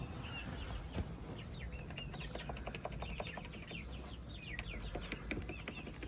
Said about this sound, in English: And chickens are very curious anyways